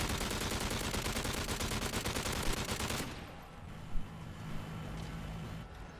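Light machine gun in a video game firing a long sustained rapid burst for about three seconds, then stopping, followed by quieter background game noise with a brief clunk.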